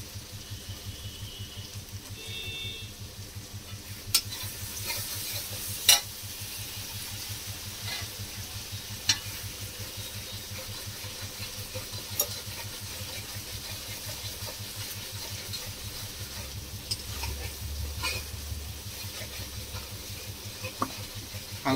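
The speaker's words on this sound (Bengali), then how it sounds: "মশলাটা আমি ভালো করে কষিয়ে নিচ্ছি" Spice paste with green chilli and five-spice is stir-fried for doi katla, a low steady sizzle with a rapid rhythmic churning pulse and occasional sharp clicks of the spoon against the pan, close but fairly quiet.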